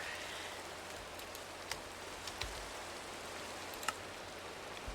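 Steady rain falls in the Minecraft modpack Enigmatica 9, a soft, even wash of noise with a few faint ticks and clicks scattered over it and no talking.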